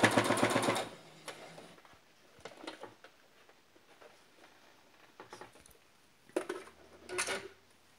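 An automatic sewing machine runs zigzag stitching along a frock's shoulder and neckline, a loud burst of rapid stitching at the start followed by shorter, fainter runs and pauses.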